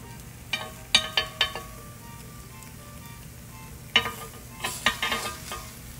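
Halved grilled peaches are flipped in a hot oven, with a steady sizzle underneath and a series of sharp clicks and scrapes of a utensil against the pan, clustered in two bursts.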